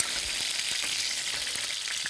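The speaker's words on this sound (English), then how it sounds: "Your pasta's boiling over." A pot of pasta boiling over on a stovetop, with water spilling and hissing as it hits the hot burner in a dense, continuous sizzle with small pops.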